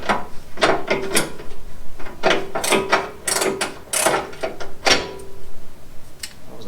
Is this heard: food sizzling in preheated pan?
no